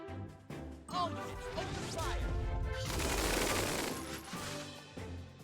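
Tiny Metal video game group attack: a sustained rattle of gunfire and crashing impacts builds to a dense, loud barrage in the middle, with a voice talking before and after.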